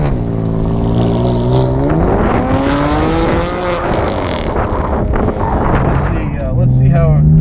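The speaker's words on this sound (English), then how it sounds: "I have yet to find an M4 with an exhaust that sounds good." A BMW M4 accelerates hard in Sport Plus mode, its engine note rising steadily through the revs and dipping at a gear change, recorded from inside the car with people talking over it.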